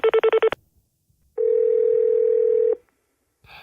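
A telephone handset carries the tone pulses of a redialed number, then a long single ringback tone in the earpiece, followed by silence; close and clear, with no talk.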